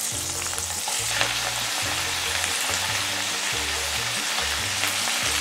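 Chicken fries in a wok for three cup chicken with a loud, continuous close sizzle. Steady stirring and scraping repeat throughout, and no one speaks.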